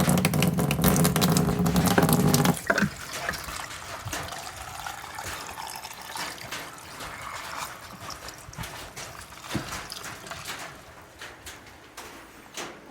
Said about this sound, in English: here's water pressure going over